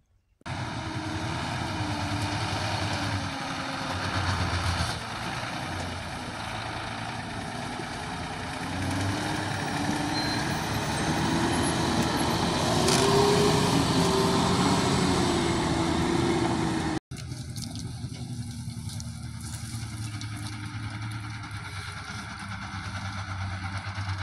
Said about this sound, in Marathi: आणि ती गाडी आता फडातून